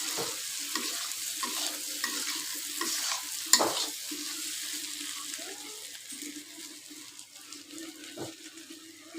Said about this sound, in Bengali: এভাবেই একটু গোটা গোটা করে রেখে ভুনা করছি।